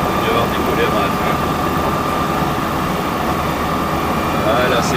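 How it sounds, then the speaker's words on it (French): Light aircraft engine at full power for a takeoff roll on runway 27 of a short airstrip, a loud, steady, unbroken roar with no pauses or voices. "on s'aligne, on décolle en 27. On va prendre toute la piste"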